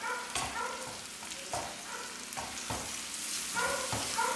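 Dried mango pieces with salt sautéing for an oil-based mango pickle, giving a steady close sizzle with several sharp scraping stirs of a spoon against the pan.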